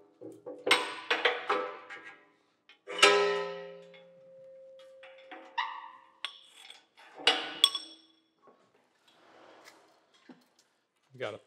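Metal parts from a Rogers 60-ton hydraulic press, such as bolts and a spacer, are dropped onto a pallet in a workshop, giving several separate clanks and clinks with short ringing tails and pauses between them.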